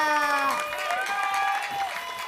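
A studio crowd applauds and cheers for a band at a live morning television show, with a voice carrying a sustained tone over the continuous clapping.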